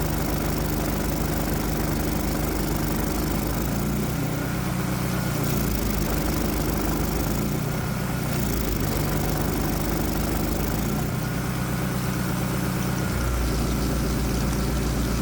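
A Predator 212 small engine converted to simple fuel injection runs hard under heavy load, close to stalling, giving a steady loud mechanical drone throughout with slight dips in its low throb.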